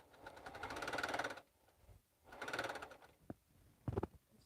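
A sewing machine stitching with its thread tension loosened runs in two sustained bursts of close, mechanical whirring, each about a second long, separated by a pause and followed by a few sharp clicks.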